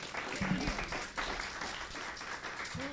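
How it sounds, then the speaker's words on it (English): A small audience applauds a faculty panel with steady, even clapping for a few seconds, with a brief voice underneath. "How about a round of applause for our panel members?"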